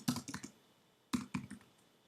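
Fingers type on a computer keyboard in two quick bursts of crisp, close key clicks separated by a short pause.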